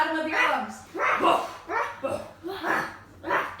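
Children imitate a deep dog bark during a kids' yoga session, giving five loud, rhythmic woof-like calls in a row with short gaps between them.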